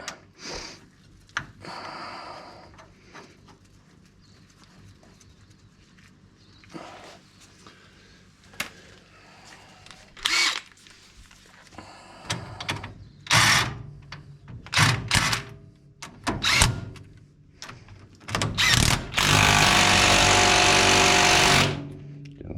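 A power tool drives bolts on a 1939 Chevrolet. It fires in short rattling bursts between quieter pauses, ending in a longer, loud, continuous run near the car.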